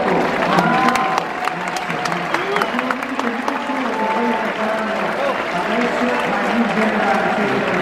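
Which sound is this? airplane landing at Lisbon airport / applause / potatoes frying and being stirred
applause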